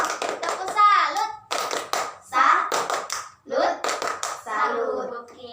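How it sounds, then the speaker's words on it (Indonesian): Children in an elementary Islamic-school classroom clap their hands in short rhythmic bursts while young voices chant and speak between and over the claps. "berikan tepuk tangan untuk kita semua. Tepuk salut."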